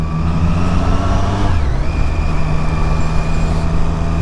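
Triumph Street Triple 765R motorcycle being ridden at speed, its engine droning loud and steady throughout with a brief pitch dip partway, wind and road roar mixed in, no talk.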